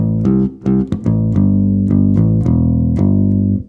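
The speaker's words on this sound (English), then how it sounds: "let's get into the bass line, which when played slow sounds like this." Slow bass guitar line, a series of deep sustained plucked notes in an even, unhurried rhythm, close and loud, no voices.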